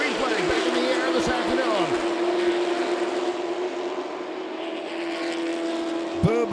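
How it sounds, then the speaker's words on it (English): Race cars at Myrtle Beach Speedway roar down the back straightaway, loud engine notes rising and falling as several cars pass close by in succession, with an announcer talking over the noise. "they'll race down the back straightaway here today on Myrtle Beach Speedway"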